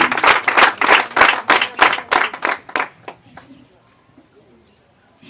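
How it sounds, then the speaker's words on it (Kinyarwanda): A church congregation gives a burst of loud rhythmic clapping that fades out over a few seconds, leaving quiet room sound. "Dukomere Imana amashyi."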